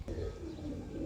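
Pigeons offered for sale give a brief, soft low coo, close and muffled against a quiet background, with no talking.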